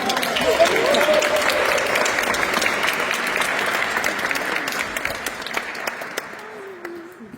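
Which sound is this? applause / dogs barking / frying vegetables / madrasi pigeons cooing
applause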